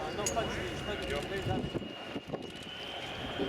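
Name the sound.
Lockheed Martin F-35B Lightning II jet coming in to land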